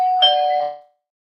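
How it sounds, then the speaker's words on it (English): A single doorbell chime rings clearly and alone, one bright tone that decays and fades out within a second. "she's startled by the doorbell ring"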